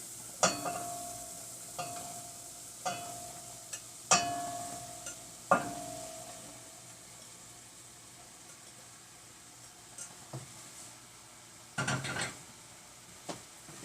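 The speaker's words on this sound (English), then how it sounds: "So now we're going to go ahead and add our mushrooms" White and cremini mushrooms cook in a pan for a vegan shepherd's pie, a faint low sizzle broken by several sharp utensil scrapes and clinks at irregular intervals.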